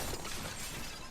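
Pots smashing in God of War Ragnarök, a brief dense shattering crash, fairly faint and without pauses.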